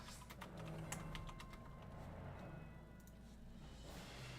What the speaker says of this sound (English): Ignore the typing!